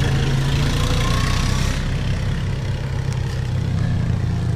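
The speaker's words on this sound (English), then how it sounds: "Got some motorcyclists here, I guess, huh?" Several motorcycles idle at a campground, a steady, continuous low engine rumble with a faint higher whine on top and no break.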